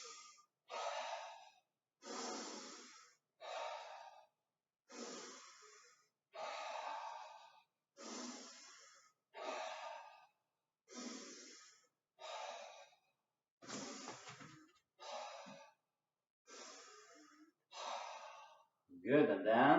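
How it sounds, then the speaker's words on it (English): Kapalabhati yoga breathing: a steady series of sharp, forceful nasal exhalations spaced about a second apart, close and breathy, with an instructor voice between them. "breathing out, breathing in, breathing out, breathing in, breathing out"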